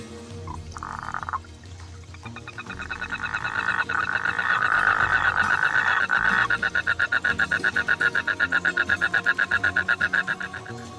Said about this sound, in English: nothing other than a toad out for his evening hop